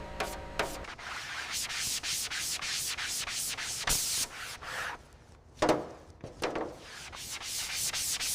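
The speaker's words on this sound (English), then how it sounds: "After hours of sanding, the light reveals the true quality of the bodywork." Hand sanding on the car bodywork of a Nissan Skyline GT-R R34 under restoration gives a close, rhythmic series of raspy back-and-forth strokes with brief pauses between passes.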